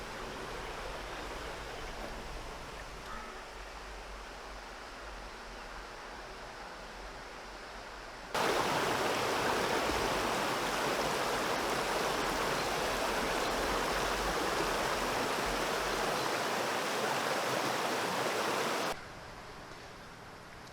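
The Burn Deele river flows past with a continuous rushing hiss of water. It is moderate at first, then swells much louder and nearer for about ten seconds before easing back.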